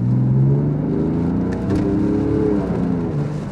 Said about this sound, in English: So pull towards you to go down a gear, which hopefully you can hear,